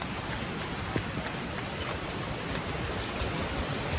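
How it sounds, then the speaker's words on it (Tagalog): Steady heavy rain from a tropical storm pours down, a dense continuous hiss with scattered louder drops, close and unbroken throughout. "Guys, balik na tayo sa bahay din, malakas na yung ulan."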